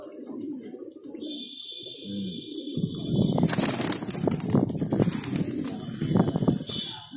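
Fancy local pigeons in a Bhopal loft coo softly at first, then rustle and flutter close by, with a steady high tone running alongside for a few seconds.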